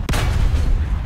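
A tank cannon fires in War Thunder from a Centurion Action X, one sharp loud blast at the start followed by a heavy rumbling decay and low engine drone, with no talking.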